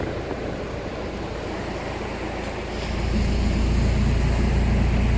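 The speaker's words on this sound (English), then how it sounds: "Hello, waves come up to meet me." Ocean surf along the coast at Canunda National Park, a continuous wash of breaking waves that swells louder and deeper midway through, with wind rumbling against the microphone and no one talking.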